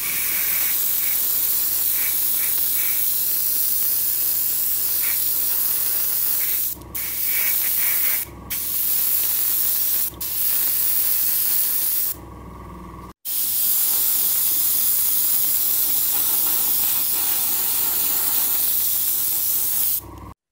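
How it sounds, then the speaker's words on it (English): An airbrush sprays paint coats onto a Bandai Space Battleship Yamato 2199 model kit, a loud continuous close hiss broken by a few short pauses and bursts. "So I can get some nice panel shading going on there just by applying more coats of paint once it's dried."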